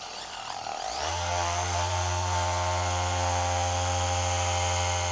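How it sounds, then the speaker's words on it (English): A Rupes HLR75 cordless mini 3-inch polisher spins up and holds a loud, steady motor whine with a constant drone as its pad and compound work car paint. "the real test is always what happens when the polisher pad and compound meets the paint"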